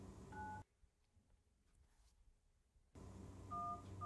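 A number is dialed on a mobile phone, heard as a few faint, short keypad tones, one at the start and a couple near the end, separated by near silence.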